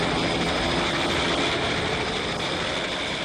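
A loud, steady roar of a helicopter engine and rotors fills the whole stretch without pause.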